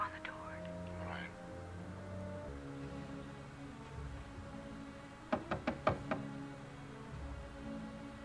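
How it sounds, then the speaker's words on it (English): Knocking on a door in a 1954 film drama: about five sharp, close raps in quick succession, set against a soft musical score and murmured voices. "Just tap on the door."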